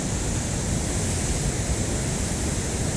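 Water rushes steadily out of the Republican River spillway in Kansas, a dense, continuous roar with no breaks, close and loud throughout.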